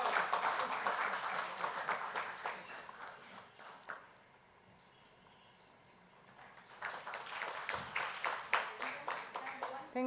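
Audience at a soil health conference clapping, a burst of applause that fades out, a quiet pause, then renewed clapping, moderately loud and indoors.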